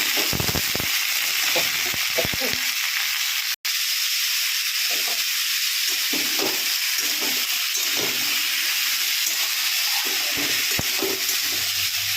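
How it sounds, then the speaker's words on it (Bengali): Panch phoron spices sizzling in hot frying oil, a steady loud crackling hiss that carries through the whole stretch with scattered pops, one short dropout, and a few faint stirring sounds. "এবার দেব হচ্ছে পাঁচফোড়ন, চলো একটু পাঁচফোড়ন দিয়ে দিলাম।"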